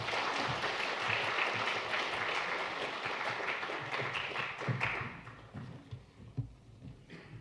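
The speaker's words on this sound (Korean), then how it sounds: "나오실 때 박수로 환영해 주시기 바랍니다." Congregation applauding at a Korean church's Sunday afternoon men's mission dedication service to welcome the elder pastor as he comes forward. Steady, fairly dense clapping fills the room for about five seconds, then thins into scattered claps and fades.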